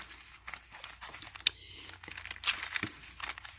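Paper sheets, music paper and art pages being handled and crumpled up close, giving soft crinkling and rustling with a few sharper crackles at low to moderate volume.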